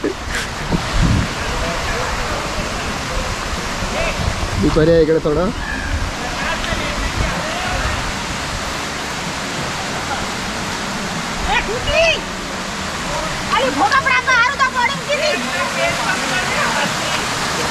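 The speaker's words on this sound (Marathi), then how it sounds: "ॲक्च्युली मॅनमेड आहे, मॅनमेड वॉटरफॉल आहे." Steady rushing water roars throughout, like a man-made waterfall close by, with people talking over it now and then.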